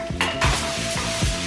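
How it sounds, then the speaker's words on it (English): Green onion and garlic sizzle in hot salted oil for a Korean stir-fried tomato and egg side dish, with a steady close fry and a few clinks and scrapes of a utensil against the pan. "I'm going to add our green onion and garlic to the oil."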